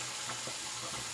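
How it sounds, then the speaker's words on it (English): Tap water pours steadily onto a shaving brush at a sink, making a close, even hiss and splash that runs without a break through the short moment, with no talk. "All right, wet the brush."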